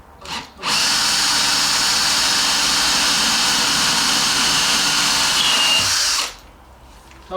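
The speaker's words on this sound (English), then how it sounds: "Drill straight into the desk." A power drill whirs loudly and steadily for about six seconds after a short initial burst, then winds down and stops.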